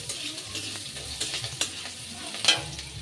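Finely chopped garlic, ginger and green chili frying in hot oil, a crackling sizzle broken by repeated spatula stirs and scrapes against the pan, close up with no talking.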